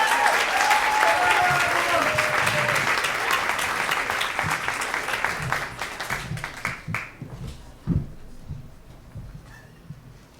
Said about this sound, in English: How about a big round of applause for Ira?